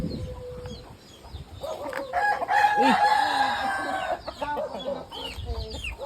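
A rooster crows loudly close by, its call rising and falling, with other fowl clucking around it.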